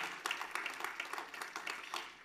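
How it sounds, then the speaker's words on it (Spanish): Church congregation applauding, a fairly faint, fast flutter of many hands clapping together in a steady, slightly uneven rhythm, heard alone without speech. "Dele ese fuerte aplauso al Señor en esta preciosa hora."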